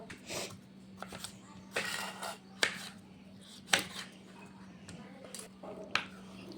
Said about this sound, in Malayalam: നമ്മളിങ്ങനെ തക്കാളി അരിഞ്ഞെടുക്കുകയാണ്